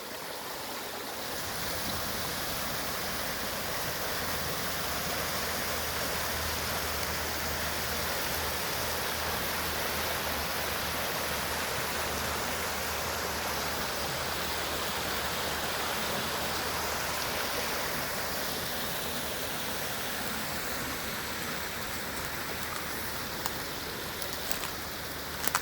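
A fast, rough Illinois farm creek rushes steadily over shifting rocks, a broad, continuous roar heard close by with no voices over it.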